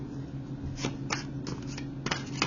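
Tarot cards shuffled and drawn by hand during a reading, a series of crisp riffling bursts and soft slaps at close range, with a low steady hum beneath.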